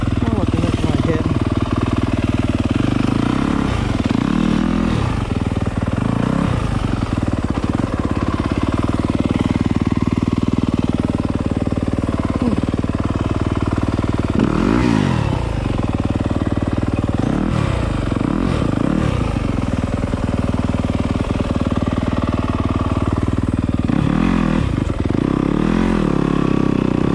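A Yamaha YZ250 two-stroke dirt bike ridden on a hard enduro trail in snow, its engine droning loud and close throughout with repeated revving surges and throttle blips over the rough ground.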